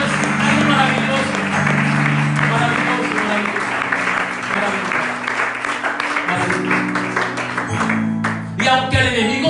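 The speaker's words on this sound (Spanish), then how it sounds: "Entonces hay que darle un aplauso al Señor" A church congregation claps in sustained applause, with music playing underneath and a voice carrying over the crowd throughout.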